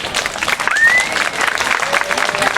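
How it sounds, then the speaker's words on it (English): An audience applauds marinera dancers at a Peruvian cultural event, with dense, steady clapping from a crowd and a faint whistle rising briefly in the middle. "So give a big round of applause for these ladies."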